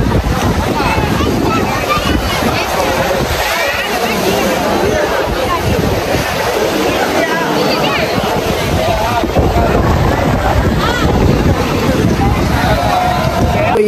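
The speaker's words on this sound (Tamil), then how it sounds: "காற்று வேறு பலமாக அடிக்குது." Strong wind blasting across the Kanniyakumari seashore, a loud continuous roar buffeting the microphone, with surf churning beneath it throughout.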